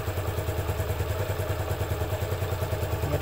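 A motorcycle engine idling, heard close and steady with an even low pulsing rhythm and light mechanical clatter throughout, no voices.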